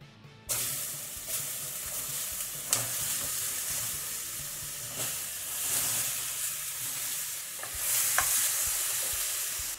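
Tomato frying in a pan for tortilla soup, a steady close sizzle and hiss with occasional stirring scrapes running throughout, no voices.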